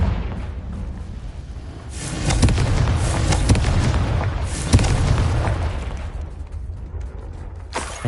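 Hogwarts Legacy's Confringo blasting spell goes off, a deep rumbling boom that swells and sustains for several seconds with crackling debris, then fades, with a sharp burst near the end.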